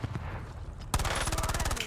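Automatic gunfire rattles in a rapid burst in Call of Duty: Warzone, close and loud, after a short stretch of quieter rumbling.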